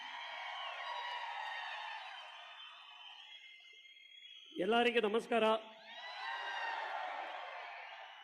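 An audience at a film event for a director cheers and whoops loudly at the start and again near the end, with a brief spoken greeting in the quiet gap between.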